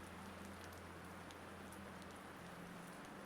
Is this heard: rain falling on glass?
yes